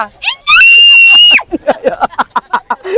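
A loud, sustained scream from a person at a riverside picnic, held for about a second, followed by a rapid series of short, sharp shouted bursts close to the microphone.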